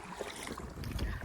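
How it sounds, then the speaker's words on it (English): Oars working a small rowboat on calm water as it heads out toward a mooring field, soft irregular splashes and knocks close by over light breeze noise. "Here we are rowing again."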